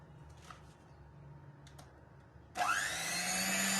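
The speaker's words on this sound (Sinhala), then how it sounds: "දැන් අපි මේ ටික හොඳින් බීට් කරගන්නයි යන්නේ." An electric mixer starts up and whirs steadily, beating whipped cream in a bowl for orange ice cream, loud and close after a short stretch of quiet room sound.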